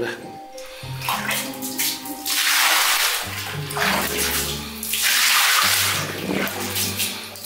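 Water poured to flush, heard as a loud, close gush and splash in a few surges with pauses between, over a low droning background hum.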